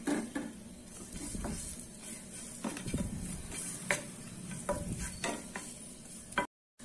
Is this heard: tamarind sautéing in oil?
yes